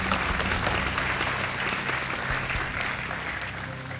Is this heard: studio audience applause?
yes